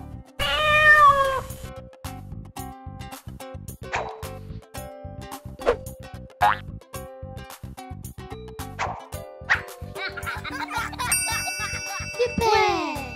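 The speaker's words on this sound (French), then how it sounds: "Un chat." A cat meows clearly near the start, then comes a rapid string of clicks, short tones and other brief animal-like calls.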